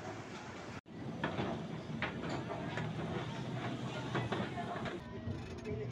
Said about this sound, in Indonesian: saya sekarang sudah berada di komuter lain atau kereta api tujuan akhir Rangkas Bitung